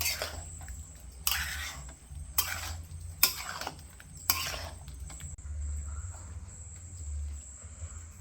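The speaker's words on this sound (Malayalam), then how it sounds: "അതിലേക്ക് നമുക്ക് ലോലോലിക്ക കുറച്ച് ഇട്ട് കൊടുത്ത് നന്നായിട്ടൊന്ന് ഇളക്കിയെടുക്കാം" Lololikka fruit being stirred into a spicy pickle gravy in a pan: a run of five scraping stirs at a steady pace, close by, over a faint steady hum and soft sizzle, with no talk.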